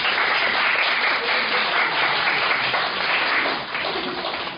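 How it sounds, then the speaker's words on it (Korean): Warm applause from a church congregation, steady clapping sustained throughout and tapering slightly at the end. "박수 한번 하십시오"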